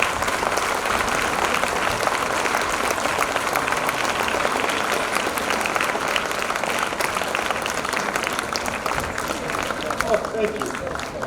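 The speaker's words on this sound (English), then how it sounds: "with a big thundering applause and standing ovation" Audience at a spina bifida seminar in Visakhapatnam, India gives sustained, thundering applause and a standing ovation for the chief guest, a dense, steady wall of clapping with crowd noise throughout.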